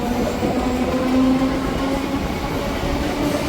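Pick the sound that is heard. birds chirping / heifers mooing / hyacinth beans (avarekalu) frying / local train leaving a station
local train leaving a station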